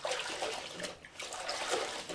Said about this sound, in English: rinsing the mop out between the first and second wash